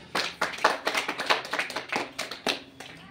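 Audience applause for a speaker at a motivational business event: a short burst of many hands clapping, fairly close, in rapid uneven claps with no voices over it.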